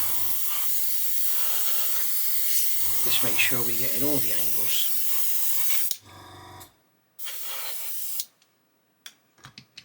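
Hairspray hisses from an aerosol can onto a model in steady bursts, with someone talking over the first part and a few shorter sprays following after pauses.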